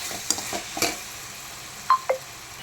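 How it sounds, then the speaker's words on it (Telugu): Ginger garlic paste fries in a pan with a low soft sizzle, a few stirring scrapes early and two brief metallic taps toward the end. "అల్లం వెల్లుల్లి పేస్ట్ వేసాక బాగా ఫ్రై చేసుకోవాలి ఫ్రెండ్స్"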